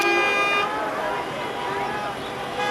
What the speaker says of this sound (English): So everybody's beeping to get out because they've had enough.